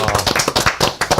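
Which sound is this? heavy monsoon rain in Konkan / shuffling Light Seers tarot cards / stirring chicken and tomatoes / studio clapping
studio clapping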